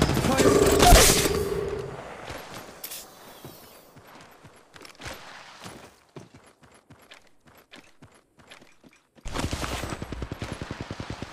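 Video game gunfire comes in rapid bursts and scattered single shots. A loud volley opens, then sparser cracks follow before another dense stretch of firing, with game voice lines heard in between.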